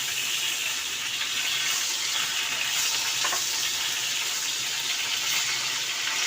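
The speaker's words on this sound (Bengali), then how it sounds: "এবার মাছগুলো একে একে তেলের ভিতরে ছেড়ে দিতে হবে।" Small rohu fish frying in hot oil in a wok, a loud, steady sizzle and crackle that runs without a break, with a faint clink partway through and no voices.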